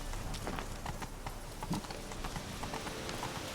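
Horse hooves clip-clop steadily in the Witcher 3 video game, an even, moderately loud trotting rhythm under a busy game soundscape, with no speech.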